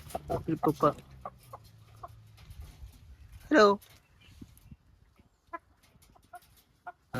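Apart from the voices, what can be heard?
chicken clucking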